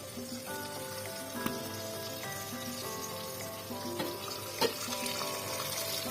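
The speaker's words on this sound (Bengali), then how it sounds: "মাছটা একটু ভালো করে কষিয়ে নেব" Shrimp (chingri) sizzling in a pan with onion, turmeric, chili powder, salt and coriander powder for a gourd-and-shrimp curry, a steady crackling fry with occasional stirring clatter, close and fairly quiet, no talk.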